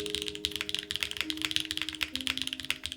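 Rapid, steady keystrokes on a custom KV1-65 mechanical keyboard with a 6.25U spacebar, close and crisp, with a faint steady hum underneath and no talking.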